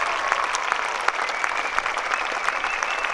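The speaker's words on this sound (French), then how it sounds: "on va encore une nouvelle fois applaudir" Crowd applauding the champions at a tennis tournament jubilee in Bordeaux, a steady dense clapping that holds at an even level throughout.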